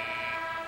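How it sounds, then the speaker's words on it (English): Referee's whistle at a Big East college basketball game, Pittsburgh at Seton Hall in Continental Airlines Arena, East Rutherford, New Jersey: a loud, steady shrill tone held for under a second over arena noise. "There's a whistle down low."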